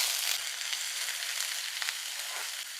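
Vegetables frying in hot oil with mustard seeds: a dense, steady sizzle and crackle up close, constant throughout with no talking.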